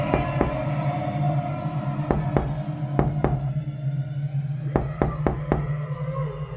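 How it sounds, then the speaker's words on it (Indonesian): Sharp knocks on a door come in irregular clusters of two and three, crisp and close, over a steady low hum, with no voices. "ketukan di pintu kembali terdengar."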